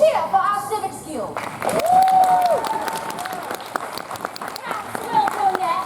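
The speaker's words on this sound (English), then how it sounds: "a cheer for our civics guild" A Renaissance Faire crowd cheering and clapping for the civics guild, a loud burst of applause and shouts rising after a brief spoken call and holding for several seconds.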